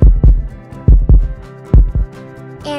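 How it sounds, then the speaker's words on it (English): Synthetic heartbeat effect of deep, booming lub-dub pairs repeating at a steady, slightly quick pace, loud and close, ending with a short bright swell. "heartbeat,"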